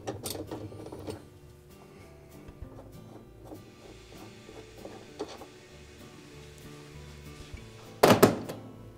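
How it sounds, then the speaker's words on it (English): A 7/16 socket wrench loosens the retaining bolt on top of the drive block of a GE washer agitator, with small ratcheting clicks and metallic taps, then a loud clunk near the end. "We're next going to use our 7/16 socket and remove the retaining bolt on top of the drive block."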